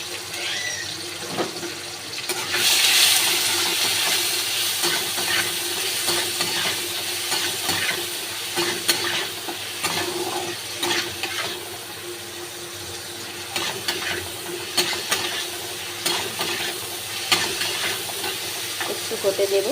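Tomato dropped into hot oil in a pan where cloves, cardamom and bay leaf have already crackled, giving a steady close sizzle with stirring scrapes and a louder burst near the start.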